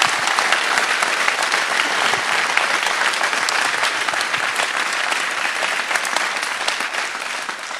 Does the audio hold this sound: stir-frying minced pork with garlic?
no